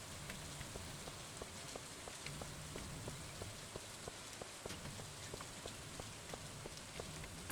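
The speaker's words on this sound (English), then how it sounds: "I guess they're just enjoying the sound of the rain." Steady rain in a video game patters on a surface, with evenly spaced drips tapping through the soft constant hiss. No voices.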